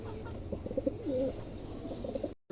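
Soft, low coos from a pair of fantail pigeons repeat in short bursts over a quiet background hum, close by and fairly faint.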